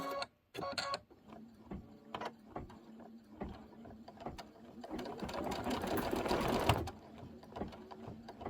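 Embroidery machine running a stitch-down line on a table topper, rapid rhythmic mechanical clatter with gear whirring that swells louder in the middle, close, with brief pauses between bursts.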